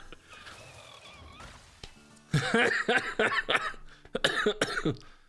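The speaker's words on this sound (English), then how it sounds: "Man, I wish I didn't have this cough." A person coughs repeatedly, a series of harsh, close coughs in two rough bursts after a quieter moment.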